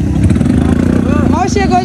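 A dirt bike at an off-road dirt event revs loudly and close, its engine pitch rising and falling in quick throttle blips, with a voice speaking over it.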